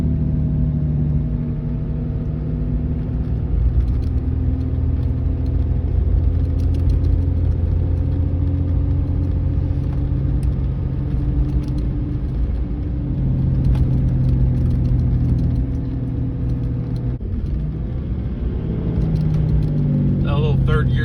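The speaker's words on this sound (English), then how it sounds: "That little 3rd gear drop there, feel that exhaust brake, almost brings us to a complete stop." A 2018 Ram 3500 Laramie pickup with a G56 manual gearbox drones steadily as its exhaust brake slows it through a third-gear downshift. The engine tone shifts near the end, and voices can be heard over the rumble.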